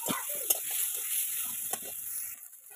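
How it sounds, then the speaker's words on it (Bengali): Chopped garlic and onion sizzle in hot oil with mustard seeds and dried red chilli in a village kitchen, a steady bright fry with a couple of sharp spatula clinks, no voices. "সর্ষে ফোড়ন দিয়ে দিলাম, রসুন কুচি আর পেঁয়াজ কুচি"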